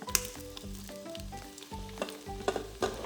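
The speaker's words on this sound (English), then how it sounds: "when the oil is hot, fry the aromatics, that's the white parts of the green onions, garlic, ginger" White parts of green onions, garlic and ginger frying in hot oil in an Instant Pot, a close crackling sizzle with a series of rhythmic stirring scrapes and clinks, no speech.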